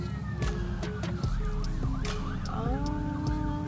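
A fire engine siren wails and wavers over steady traffic rumble, its pitch rising and falling as the truck moves through nearby.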